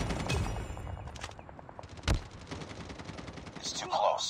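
Bursts of automatic gunfire in a Call of Duty Mobile team deathmatch, with one loud close shot standing out amid rapid shots and game voice announcements.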